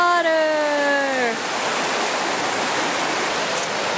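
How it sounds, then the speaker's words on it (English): Rushing water from a stream or waterfall in New Zealand, a loud steady broadband roar at close range, with a rising voice-like whine over the first second before the flow continues alone. "We found water!"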